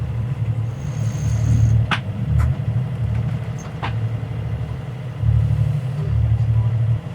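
A sailboat's engine runs during an Atlantic Ocean crossing, a low rumbling drone that swells and eases, with scattered clicks and voices talking over it.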